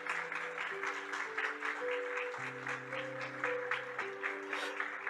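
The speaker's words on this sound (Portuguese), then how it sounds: "dê uma salva de palmas ao Senhor" A church congregation at a family worship service applauds in a sustained, even rush of clapping over held keyboard chords, fairly distant and soft.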